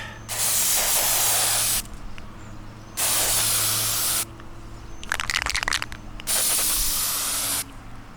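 Loud hissing spray bursts from an aerosol can of spray chalk, several sustained blasts of a second or more each, separated by short pauses.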